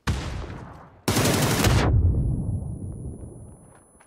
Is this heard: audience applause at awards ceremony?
no